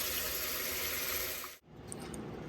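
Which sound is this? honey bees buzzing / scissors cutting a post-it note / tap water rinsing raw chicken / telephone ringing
tap water rinsing raw chicken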